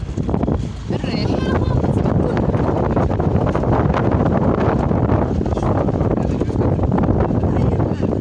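Strong wind roars steadily across an open mountain road, buffeting the microphone in a loud, continuous rush with brief dips, while someone talks over it.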